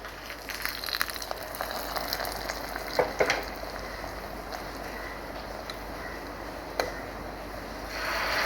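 Hot oil sizzles steadily as tempering spices crackle in a pan before being poured into boiled curry, with a few sharp clinks and pops from stirring near the start and later.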